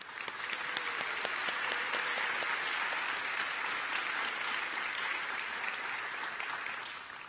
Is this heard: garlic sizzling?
no